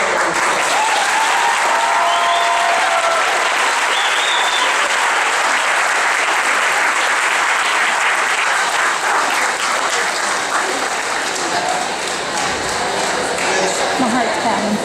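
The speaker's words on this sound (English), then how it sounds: "Give yourself a round of applause." Dense, loud crowd applause fills a gym at a benefit volleyball game between Simon Kenton and Ryle, sustained throughout with a steady roar of clapping and some cheering mixed in.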